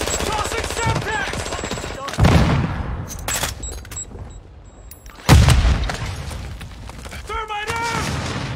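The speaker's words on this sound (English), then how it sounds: "Throwing Semtex! Tossing Semtex!" Call of Duty Warzone firefight with sharp bursts of gunfire and two heavy booms consistent with a Semtex grenade going off, loud and close, while a player's voice talks over the action.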